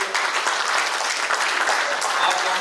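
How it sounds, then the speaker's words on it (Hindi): Loud sustained clapping from a crowd at a stage show while guests are being honoured, a thick continuous wash of hand claps with no break, heard alone without talk. "तालियां रुकने नहीं चाहिए दोस्त।"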